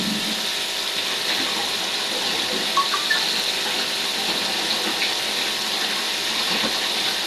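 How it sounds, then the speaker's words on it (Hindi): Steady running tap water pours continuously while winter vegetables are washed beneath it, close and fairly loud, with faint clinks and handling sounds mixed in. "जल्दी जल्दी से वैसे धोने में लगी हुई हूँ, ताकि ये फटाफट से धुल जाए"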